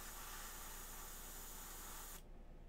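An airbrush sprays paint onto a McFarlane Hellblaster Primaris marine miniature with a steady, close hiss of air that stops abruptly near the end.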